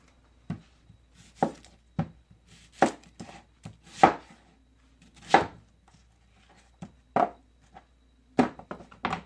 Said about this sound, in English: I'm just going to kind of chop these up a little bit smaller